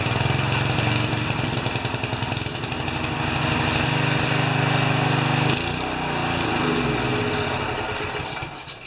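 A 3HP Briggs & Stratton engine on a Turf Power tiller runs loud and close, a steady rapid chugging drone that wavers slightly midway and keeps going without any talk.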